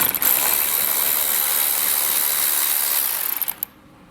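A T30 Torx fastener being removed from a 2018 Ram ProMaster City with a power tool, a continuous close whirring buzz that sputters in a few quick pulses before cutting off, without talk.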